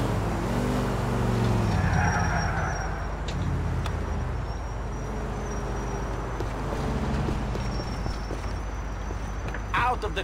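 Car driving in the video game GTA IV, engine drone rising and falling with tire skids and squeals, a sharp burst of screeching near the end, with game voices talking over it.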